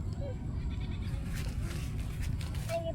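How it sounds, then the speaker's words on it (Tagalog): Goat bleats in an outdoor rural spot, heard as short tonal cries at the start and end of the clip over steady low rumble and background talk. "May kambing."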